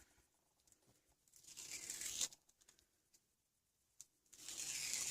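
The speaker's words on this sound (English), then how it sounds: "see if I can get all this tape off in one go" Tape being peeled off a handmade Father's Day card made from a coloring book page with homemade enamel dots: soft, close crinkly tearing in two longer pulls separated by a brief pause, with no talking.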